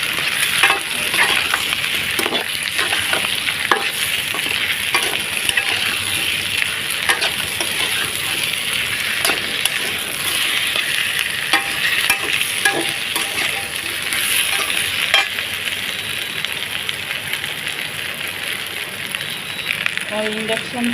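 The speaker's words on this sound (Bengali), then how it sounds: "যেহেতু কচুটা দিলে একটু ভাজা ভাজা হবে, ভালো করে কষিয়ে কষিয়ে নিয়ে রান্না করবো।" Taro pieces stir-fry in a pan on an induction cooktop, giving a steady loud sizzle with scraping stirring noises throughout.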